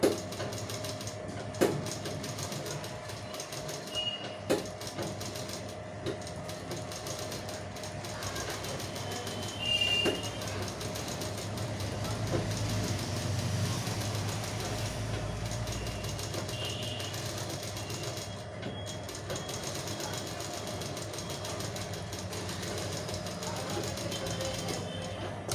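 Sewing machine stitching fabric in a steady mechanical whir that runs almost continuously, with a few brief pauses and clicks, and a voice speaking now and then over it.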